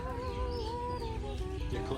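A chicken clucks on a trip in the Philippines, a string of short, fairly close clucks over a steady outdoor background, with no talking.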